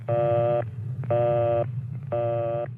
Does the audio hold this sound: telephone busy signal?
yes